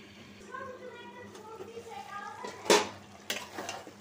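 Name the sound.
stir-frying curry with pointed gourd and fish in pan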